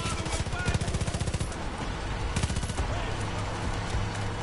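Rapid automatic gunfire in the shooter game Far Cry 5 rattles in loud bursts, one long burst followed by shorter ones, with faint voices underneath.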